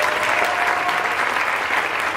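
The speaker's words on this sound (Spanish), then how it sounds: "Quiero un nuevo aplauso para un grande de la vida, el señor Andrés Parra, por favor." An audience applauds at a live festival show in a steady dense wash of clapping that holds at the same level throughout.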